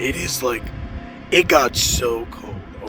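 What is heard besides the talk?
None of the usual background noises is heard.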